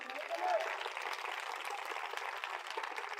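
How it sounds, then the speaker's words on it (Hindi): Congregation at a one-day revival meeting clapping together, a broad steady wash of hands sustained evenly throughout with a faint higher voice-like tone briefly near the start. "जोरदार जरा तालियां बजाएं।"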